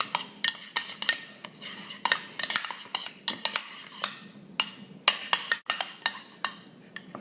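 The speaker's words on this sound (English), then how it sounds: "Quick stir." Chopped ingredients for a cheese steak stirred quickly in a bowl with a utensil, giving a rhythmic series of sharp clinks and scrapes, close and clear with no talk.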